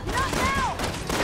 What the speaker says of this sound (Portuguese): Espera ele chegar perto agora e eu dou um tiro nesse gás.